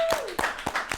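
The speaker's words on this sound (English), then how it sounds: "Can I get a clap?" Hands clap four times in a slow, even rhythm, with sharp, fairly quiet claps in a small room during an esports podcast.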